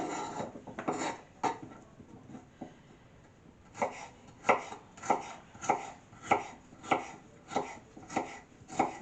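A knife chops pepper into small pieces on a board for a lasagne meat sauce, with several irregular cuts at first, then a steady run of about ten evenly spaced, crisp, close-up chops.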